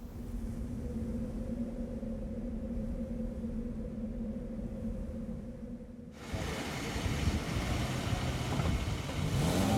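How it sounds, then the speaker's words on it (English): A Toyota Land Cruiser's stock V6 engine hums steadily at mid pitch in sand dunes, then abruptly roars louder and rougher as it revs up and pulls away. "with a look of Nigel Mansell about him, as he lets the cruiser's stock V6 engine do the talking"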